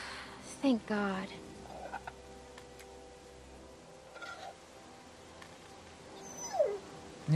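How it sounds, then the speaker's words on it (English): A dog whimpers in the video game The Walking Dead Season 2, giving a few high, thin whines and yelps spaced out over several seconds, with a voice talking in between against a quiet background. "Yeah, the dog also wants to eat."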